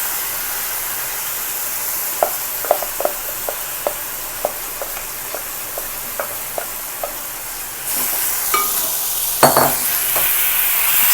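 Marinated chicken sizzles steadily in a hot pan for biryani, with a regular series of sharp scraping stir strokes over the frying hiss, then louder sizzling and clattering as pieces are tossed.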